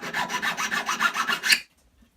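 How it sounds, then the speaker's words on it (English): A hand file works the side of a handmade 5 mm flat metal ring band with about ten quick, even rasping strokes, close and alone, before stopping abruptly. "When you file the sides, be just as careful as you would when filing the inside."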